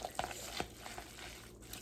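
Korean black bean noodles are stirred in a pan, giving soft, quiet scraping and wet squelching with a couple of light clicks, no voices.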